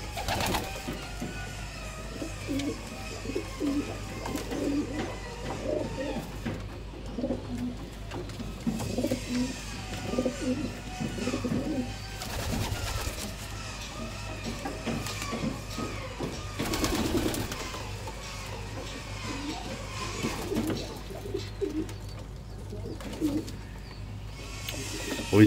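Pigeons cooing continuously in a pigeon loft, soft repeated throaty coos overlapping one another at moderate distance, with no talk.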